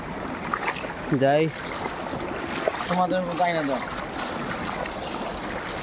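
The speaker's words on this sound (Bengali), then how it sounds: "ওয়াটারফল ওয়াটারফল পুরো চলে আসছে উপর থেকে, পাহাড় থেকে জল।" A waterfall pours down a hillside in Assam, making a constant broadband rush heard up close. Voices speak briefly over the water.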